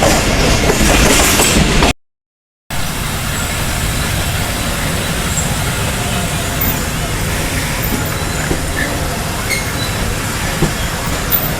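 The Tezgam passenger train rolls along after leaving Raiwind, heard from inside as a loud, steady rumble with a rushing roar and faint rattling, broken by a short silent gap near the start.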